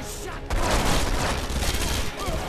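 Rapid gunfire in the video game Red Faction Guerrilla, a dense burst of shots that begins abruptly and continues for about two seconds, loud and full, without speech.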